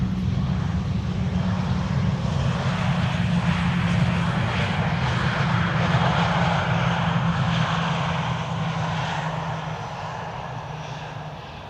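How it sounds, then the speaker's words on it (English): An Aer Lingus airliner arriving at Amsterdam Schiphol Airport, heard as a steady, loud broadband engine roar over a deep low hum, sustained throughout and easing off slightly near the end. "Aer Lingus, in the meantime, having arrived here."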